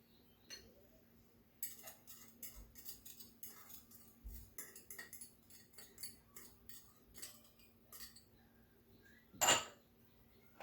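Butter, egg and monk fruit sweetener being stirred together in a bowl for a keto butter pie, a utensil clinking and scraping against the dish in quiet irregular taps, with one louder knock near the end.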